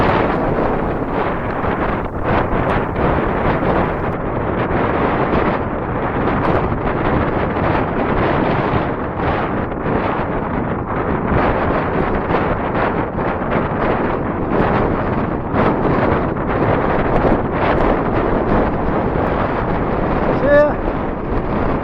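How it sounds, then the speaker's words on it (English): Strong wind buffets a hilltop on the Howgills fells, roaring loud and continuous across the microphone for the whole stretch with no letup. "It's a bit windy up here."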